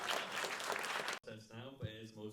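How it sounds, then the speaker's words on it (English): An audience at a 48 Hour Film Project Q&A in Glasgow applauds loudly for about a second, then the clapping stops abruptly and a voice begins speaking. "So give these guys a big round of applause."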